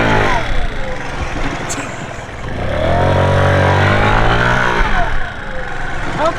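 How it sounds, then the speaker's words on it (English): Moped engine on backyard dirt jumps revving up and down, a close, loud mid-pitched buzz that climbs in pitch, holds high, then drops back to a lower idle, with someone talking faintly under it. "so I got a moped."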